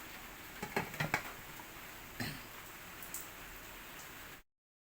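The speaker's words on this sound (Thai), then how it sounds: "ฝนตกครับพี่น้อง ตอนเช้าวันจันทร์นะคะ" Morning rain falls steadily with a soft, continuous patter, with a few louder drips and taps standing out early on before the sound cuts off abruptly.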